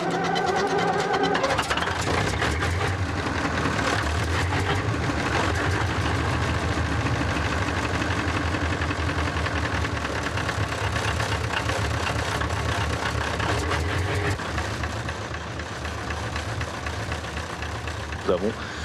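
An old diesel engine runs steadily with a dense, knocking rumble, loud and continuous throughout, while people talk in French over it.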